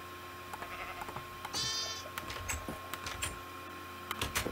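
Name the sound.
sheep bleating in a video game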